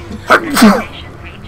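A single sharp human sneeze bursts out close and loud after a short synthetic-sounding voice line.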